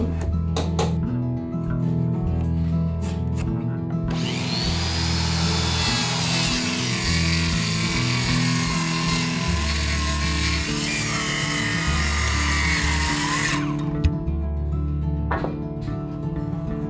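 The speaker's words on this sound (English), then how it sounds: "I'll cut a 7mm groove with sharp edges" A power tool cuts a 7mm sharp-edged groove into wood threshold material in Japanese woodworking: a loud, continuous high-pitched cutting whine lasting about nine seconds, set against a steady background of music or machine hum.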